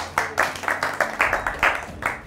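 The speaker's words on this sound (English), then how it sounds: "give a little clap" A small group in a calisthenics handstand class claps in a brisk, even rhythm of about eight claps, each crisp and close, with a faint room sound underneath.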